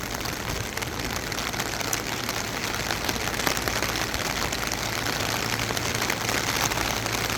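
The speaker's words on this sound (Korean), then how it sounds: "아주 반가운 소나기입니다." A passing rain shower falls on a pepper field, its dense, even patter close and constant throughout with no voices over it.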